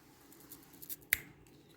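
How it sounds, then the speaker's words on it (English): A crisp sesame seed and sugar bar from a German Type 7 freeze-dried field ration breaks with one sharp, quiet snap after some faint handling noise. "Listen to the snap."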